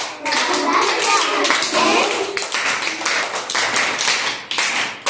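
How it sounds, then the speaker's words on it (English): Children clapping their hands along to an action song in a classroom activity, rhythmic taps layered with a singing adult voice and kids' voices throughout. "clap your hands"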